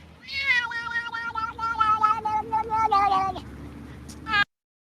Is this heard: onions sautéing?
no